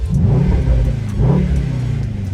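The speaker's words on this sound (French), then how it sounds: "Le grand requin méchant, t'entends les pétaradements?" A Mercedes-AMG GT63 S with a Stage 1 tune revs with a deep, throaty rumble, rising twice in quick surges, loud and close, with faint crackles from the exhaust.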